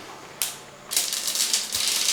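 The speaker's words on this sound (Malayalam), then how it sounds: "വെളിച്ചെണ്ണയൊക്കെ ഒന്ന് ചൂടായതിന് ശേഷം നമുക്ക് കുറച്ച് കടുക് ഇട്ട് കൊടുക്കാം." Mustard seeds splutter and pop in hot coconut oil in a pan while a fish dish is being cooked. A brief burst of crackling comes first, then dense, continuous crackling spatter fills the second half with no talking.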